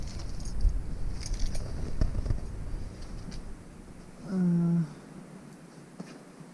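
Car keys for a BMW X3 are grabbed and jangle briefly up close after some rustling and handling noise, followed by a short tonal beep and a quiet room.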